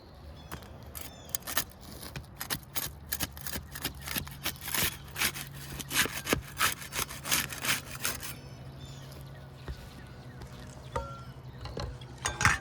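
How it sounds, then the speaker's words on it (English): A putty knife prying and unsealing asphalt roof shingles, a series of sharp scraping cracks and tearing snaps in irregular bursts, close up over quiet outdoor background. "We use the putty knife to unseal the top shingle."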